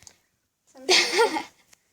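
Cat meowing in Minecraft Pocket Edition, a single short in-game meow heard clearly on its own after a brief quiet stretch.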